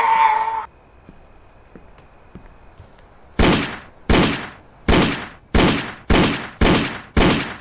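Gunfire in a scary video game: seven loud, sharp shots at a steady, deliberate pace, each with a short trailing decay, following a brief tone and a quiet pause.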